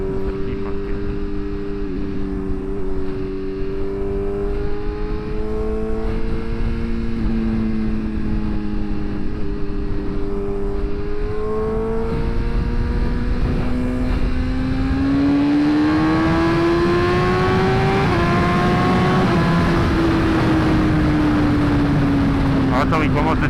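An S1000RR motorcycle accelerates on a highway at night: the engine tone climbs steadily through rising pitch over sustained wind rush, loud and continuous, with a rider talking over it.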